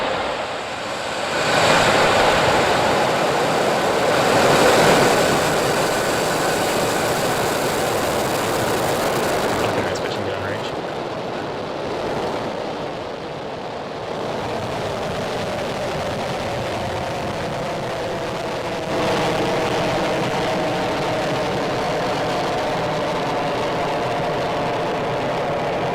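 A SpaceX Falcon 9 rocket ignites and lifts off on a Starlink mission, heard from a distance as a deep, rolling roar that swells and rumbles on for the whole stretch.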